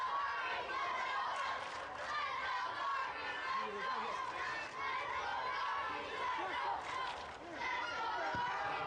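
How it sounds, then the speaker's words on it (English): Home crowd noise at a men's premier soccer match, a steady wash of chatter and cheering heard from a distance beneath a close commentator's voice. "once again the crowd getting into it"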